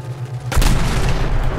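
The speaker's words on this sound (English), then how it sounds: "Oh God, he's shooting at me." Heavy gunfire in the ModBox video game erupts about a third of the way in and keeps going as a dense, loud barrage with booming low rumble until the end.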